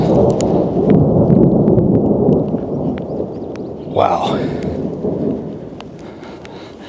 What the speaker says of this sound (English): That's a storm brewing.